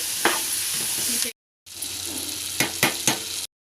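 Cut cluster bean pieces stirred in a frying pan, a continuous sizzle broken by sharp scrapes and clinks of a spoon against the pan, close, with a brief silent gap partway through.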